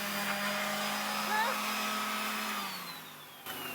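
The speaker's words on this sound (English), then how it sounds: "I'm sanding" A steady, loud whirring drone of a powered sander running continuously on a sailboat, its pitch easing down near the end as it winds off.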